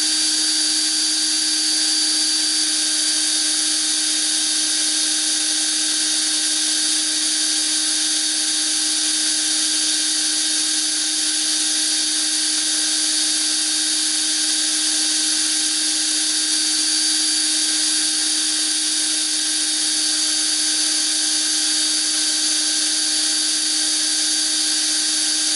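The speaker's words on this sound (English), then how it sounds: "I apologize in advance for the noisy drill." A steady, high-pitched drill whines continuously at close range without pause, a constant mechanical tone with no speech.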